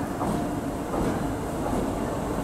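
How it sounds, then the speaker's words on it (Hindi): WAP7 electric locomotive hauling the Duronto Express, a steady close rumbling roar with broad rail noise and no clear pauses throughout. "WAP7 locomotive"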